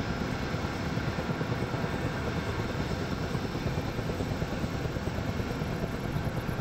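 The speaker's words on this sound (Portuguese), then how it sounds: "Nem precisava vir pra cá de helicóptero" A helicopter in modded Minecraft 1.7.10 flies with a steady, droning rotor and engine hum. The whir is continuous and unchanging, with no talk over it.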